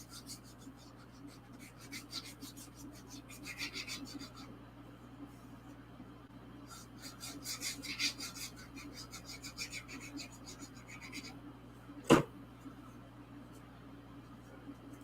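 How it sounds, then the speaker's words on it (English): Paper card edges are trimmed with soft, intermittent rasping cuts over a low steady hum, with one sharp click near the end. "Then I'll just trim off my edges."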